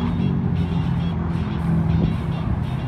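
An Autocraft-powered VW Bug with a big motor rumbles nearby on a street, a loud, steady low-pitched engine drone with slight throttle swells throughout.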